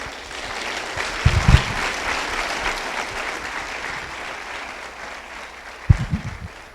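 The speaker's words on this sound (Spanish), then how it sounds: "¿Qué tal si lo recibimos con un fuerte aplauso?" A church congregation at an anniversary service breaks into sustained, steady applause to welcome a visiting pastor, a broad wash of clapping filling the room with a couple of louder thumps near the microphone.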